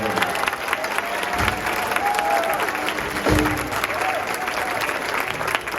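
Steady audience applause fills a band concert hall after an ensemble piece, dense and continuous at moderate volume, with a brief low thump partway through.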